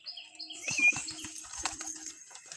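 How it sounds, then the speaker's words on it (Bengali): Pigeons on a rooftop loft, a burst of flapping wings followed by soft cooing and chirps, fairly close and moderately quiet against outdoor ambience. "এই যে একটা পায়রা, আরো দুটো পায়রা রয়েছে।"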